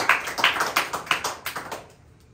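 Church congregation clapping hands in praise, about seven sharp rhythmic claps at an even beat, then fading out to quiet.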